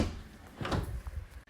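A door opens with a short wooden knock and creak, a brief close thump of the latch and panel, followed by a quick clunk as it settles.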